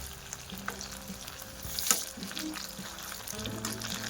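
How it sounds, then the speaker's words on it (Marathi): Patra vade, colocasia leaf fritters, frying in a little oil in a pan, giving a steady close sizzle with a few light stirring and scraping sounds. No one speaks. "थोडंसं मी आता फ्राय करतो आहे बघा"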